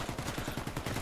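Imbel IA2 assault rifle firing in the Warface video game on Xbox Series X: rapid automatic shots in an even, fast rhythm, close and continuous throughout.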